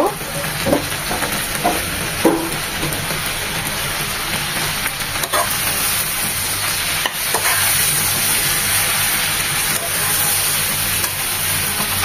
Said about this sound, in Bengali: দিয়ে দিচ্ছি পাট শাক, প্রথমে অল্প দিয়ে নেড়ে চেড়ে নেব